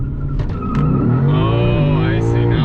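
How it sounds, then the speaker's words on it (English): Rear tires of a 2021 Lexus RC F spin and squeal on launch at Fuji, a high wailing screech over the rising engine note, with voices talking over it. "Now we're just lighting up the rear tires."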